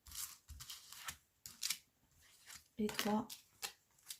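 Tarot cards being shuffled and drawn, with soft, quick papery riffles and slaps in short bursts, while someone speaks briefly between them.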